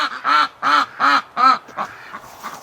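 Pet Rouen ducks at a backyard breeding pen quack four times in loud, evenly spaced, nasal bursts, followed by softer, rougher calls trailing off nearby.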